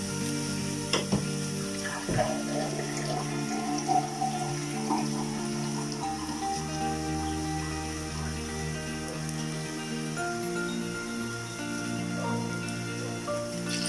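Water is poured into a cooking pot for Ilocano-style tinolang manok (chicken ginger soup), a steady splashing, gurgling flow lasting several seconds at an even level with no talk.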